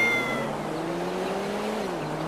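A car in a video game drives past a cat crossing the road, its engine tone holding steady and gliding slightly downward as it goes by, with a faint squeal-like tone early on, loud and close, no talking.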